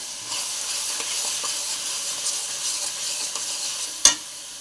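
Ginger-garlic paste and fried spices sizzle in a pan while being stirred, a steady close hiss with faint scraping and one sharp clack near the end.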